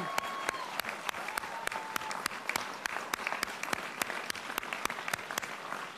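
Steady, fairly distant audience applause for the country's teachers at a political event, with sharp individual claps standing out at regular intervals over the crowd's continuous clapping.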